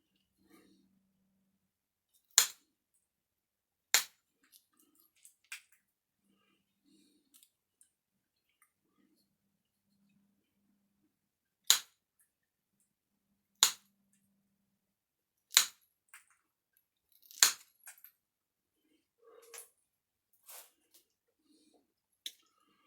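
Sharp, isolated pops and snaps of flakes breaking off obsidian under a pressure flaker sound at irregular intervals against near silence, crisp and close, with small clicks between them.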